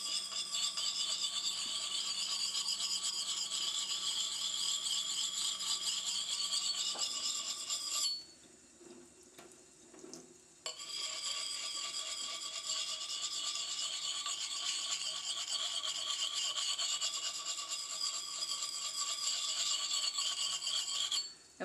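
Throwing axe blade being sharpened on the wet fine side of a whetstone, a continuous close rasping rub that pauses briefly midway before resuming at an even, steady pace.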